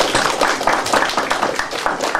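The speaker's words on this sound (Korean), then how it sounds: "여러분 박수" Small audience at a book forum gathering clapping after a speaker's introduction, close, loud, rhythmic hand claps in a fairly regular pulse.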